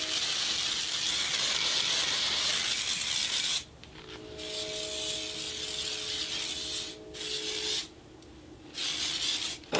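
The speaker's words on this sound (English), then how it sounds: "Just give it a good spray" A Hottie Toddy heat protectant spray bottle sprays hair with a long, steady hiss up close, then several shorter bursts with pauses between them.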